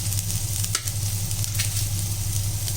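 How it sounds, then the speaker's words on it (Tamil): Ginger, garlic, onion and green chili sizzle in a pan, a steady close frying hiss with a low hum and a couple of brief stirring scrapes. "இதெல்லாம் நல்லா வதக்கலாம். இஞ்சி, பூண்டு, வெங்காயம், ஒரு பச்சை மிளகாய்"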